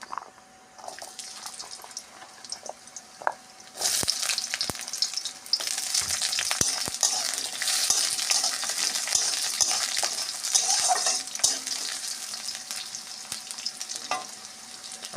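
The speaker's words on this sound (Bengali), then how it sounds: "ফোড়নটা হয়ে এলে আমি আলুটা দিয়ে দেবো।" Potatoes go into hot oil tempered with dried red chilli and nigella seeds for a pui shaak chorchori; a quiet sizzle jumps to a loud, steady hiss a few seconds in, broken by sharp stirring clicks.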